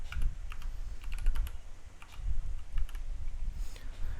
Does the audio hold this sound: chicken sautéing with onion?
no